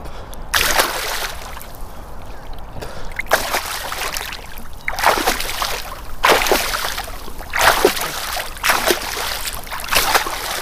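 Water splashes repeatedly during a beginner freestyle swimming lesson, with rhythmic bursts of slapping and sloshing spaced a second or two apart over a steady pool background.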